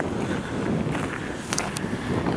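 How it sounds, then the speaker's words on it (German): Strong wind at the North Cape in Norway, by a campervan parking area, buffets the microphone with a loud, continuous rumbling roar and a few brief higher gusts. "Wenn der Wind nicht wäre, wäre es angenehm."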